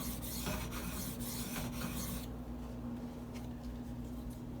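A Spyderco Native 5 knife is stroked across a Gritomatic silicon carbide stone, giving quick, repeated gritty rasps for about two seconds before the scraping thins to a few quieter strokes over a low background hum.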